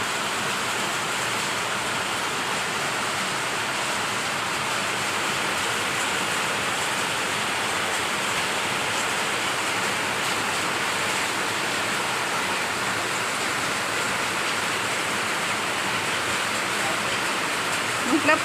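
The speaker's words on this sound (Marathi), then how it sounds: "एवढं धवाध पाऊस पडतो आहे तर खूप असा पाऊस पडतो आहे" Heavy rain pouring down during a sudden downpour under thick clouds, a dense, steady wash of noise that holds evenly for the whole stretch with no voices standing out.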